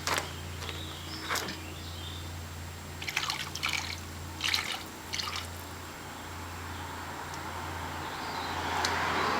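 Vegetable oil trickles through a funnel into the fuel tank of a Smart CDI car, a soft, steady liquid pour with faint dribbles, recorded close.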